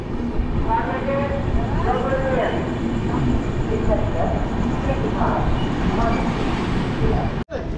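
The Kamakhya–Delhi train stands at a station platform, giving off a steady, dense rumble and hiss throughout, with people talking over it and a short sharp click near the end.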